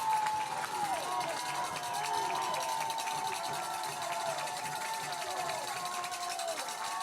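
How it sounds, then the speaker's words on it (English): A loud stadium crowd at a Reinhardt University vs. Cumberland University college football game roars steadily throughout, with voices heard over the din. "Crowd is loud."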